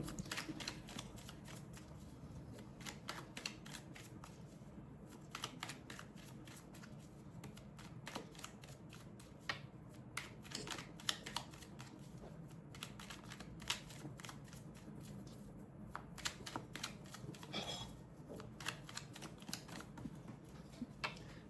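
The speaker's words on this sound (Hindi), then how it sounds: "मेरी सारी कार्ड्स क्यों गिर रही है आज?" Tarot cards falling and being handled during a reading: a soft, steady patter of light papery flicks and clicks with occasional sharper snaps, close but quiet, running continuously without speech.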